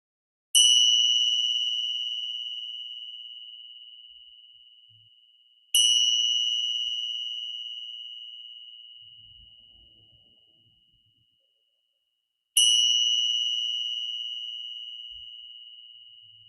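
A meditation bell struck three times at long, even intervals, each strike a clear bright ring that slowly decays into near silence.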